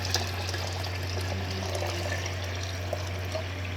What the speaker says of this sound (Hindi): तो यहाँ पर मैं अब 8 कप जो है वो पानी इसमें शामिल करूँगी।